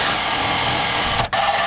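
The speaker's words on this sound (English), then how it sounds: "I'm gonna go ahead and drill these." Power drill boring holes to mount off-road lights for a custom headlight install, a steady high whirring whine running nonstop at close range, briefly cutting out near the end before resuming.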